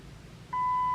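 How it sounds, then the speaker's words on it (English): A steady electronic beep from a Chrysler 300 during key fob programming starts halfway through and holds until the end, clear over a low engine hum. "Now it's gonna beep again."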